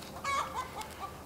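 A chicken clucks in a few short, close, soft bursts over a steady outdoor background hiss.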